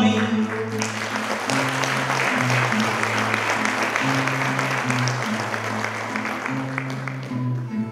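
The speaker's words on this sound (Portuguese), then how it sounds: "e as pessoas aplaudissem o Marcelo do Ramiro." An audience at a cantoria performance in a village hall applauds steadily and loudly throughout, while a sustained instrumental tone carries underneath the clapping.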